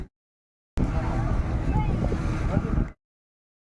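A motorboat taking riders out for parasailing rumbles with a low, steady engine drone under heavy wind buffeting on the microphone, the sound cutting in abruptly and stopping after a couple of seconds.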